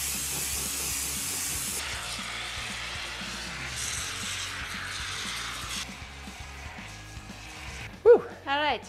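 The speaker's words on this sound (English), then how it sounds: "we're just gonna use expanding foam and spray our entire spider with a foam that we can sculpt and shape a little bit" Expanding foam is sprayed from a can onto a giant spider prop built for Halloween, a steady hiss that shifts in bursts before stopping, followed by a short voice at the end.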